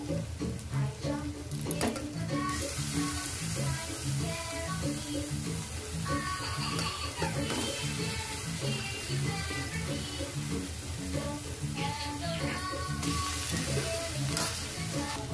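Deboned loitta (Bombay duck) fish fry in a spice paste in a pan, giving a loud, continuous sizzle with stirring clatter throughout, over background music.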